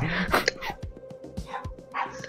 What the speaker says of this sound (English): It's dogs. It's dogs.